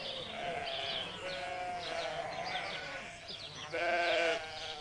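Sheep bleating out in a field, several overlapping calls wavering repeatedly over a steady background, with no speech.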